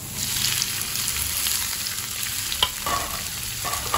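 Ground onion and garlic paste sizzles and fries steadily in a pan with dried red chillies and curry leaves, a close, continuous crackle with occasional stirring scrapes and no talking.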